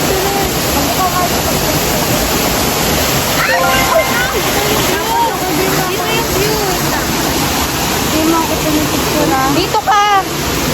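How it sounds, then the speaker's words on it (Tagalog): El Kabayo waterfall roars as a steady broadband rush of falling water, heard from a short distance, with people chatting over it in places. "That's the waterfalls over there."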